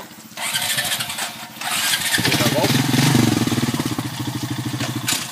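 An off-road motorbike being kick-started on a back-country track, the engine catching and revving loudly under throttle, close and steady, with people talking over it.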